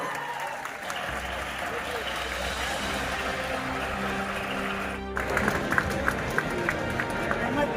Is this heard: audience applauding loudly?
yes